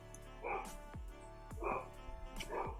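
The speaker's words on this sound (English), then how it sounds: "There's the dog." A dog guarding the house barks three times at even intervals, moderately near, with a low voice murmuring underneath.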